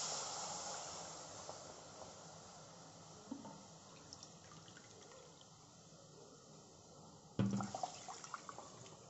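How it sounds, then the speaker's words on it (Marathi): Water is poured into a kadhai in a home kitchen for cooking fine semolina, a soft, steady hiss and trickle, ending in a brief metallic clatter. "एक वाटी बारीक रव्याला त्याच वाटीने मोजून दोन वाट्या पाणी घालायचं आहे आपल्याला"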